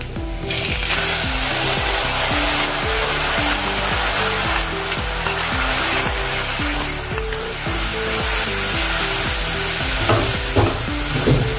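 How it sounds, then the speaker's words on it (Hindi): Prepared spice masala hits garlic frying in oil for a radish and radish-leaf curry, sizzling loudly and continuously while a spoon stirs and scrapes the pan up close, with no talking. "अभी जो हमने मसाला तैयार किया था वो इसमें डाल देंगे"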